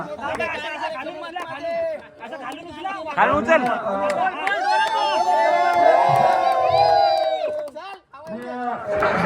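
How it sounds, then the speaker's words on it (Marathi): Team members and supporters cheer and celebrate at a village cricket match in the KPL 2026 tournament, a loud, sustained crowd of excited shouts and chatter that swells and dips, with voices calling out over the noise. "आमचा दुसरा मंडळ आहे आणि फुल जल्लोष आहे"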